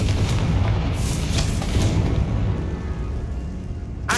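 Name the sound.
Confringo blasting spell cast in video game Hogwarts Legacy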